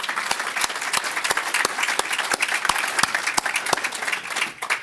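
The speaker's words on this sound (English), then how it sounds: "I think we need to give her a special round of applause." Applause from a meeting audience honoring Sharon Gladwell, a steady wash of many hands clapping with sharp individual claps standing out throughout, sustained and fairly close.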